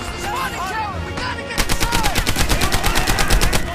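Rapid automatic gunfire from the World War II shooter Medal of Honor: Airborne, loud and close, bursts of fast repeated shots stuttering in a steady rhythm with some lighter firing at the start.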